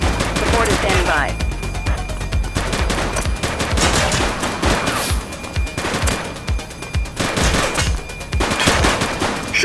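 Repeated gunfire in a police video game, loud sharp shots and rapid bursts cracking over a busy background, spread across the whole stretch with short gaps between volleys.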